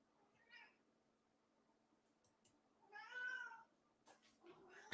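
A cat meows twice in a quiet indoor room, a short call early and a longer, louder meow a few seconds later, with faint clicks and a steady low hum in the background.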